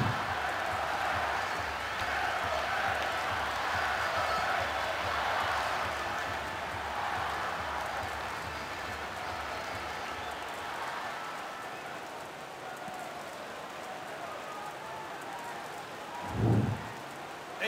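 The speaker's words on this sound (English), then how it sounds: "And the crowd are well behind their team now they've got their goal." A stadium crowd roars after a goal in the mobile football game Dream League Soccer 2016 on Android. The broad, rain-like wash stays loud for about ten seconds, then thins and fades, with a commentator's voice over it.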